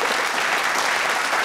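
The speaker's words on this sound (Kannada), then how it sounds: "ಚಪ್ಪಾಳೆ." Studio audience on a Kannada TV game show claps in a short, dense burst of many hands, steady and fairly loud with no pause.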